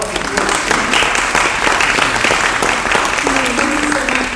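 Audience clapping steadily for a guest candidate speaker at a small gathering, a dense, continuous patter of hands that holds at an even level throughout, with a voice speaking over part of it.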